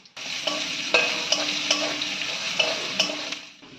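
Dried red chilies, whole cumin, cardamom, cinnamon and cloves fry in hot oil with a steady close sizzle, broken by several sharp clinks and scrapes of a spoon stirring the pan.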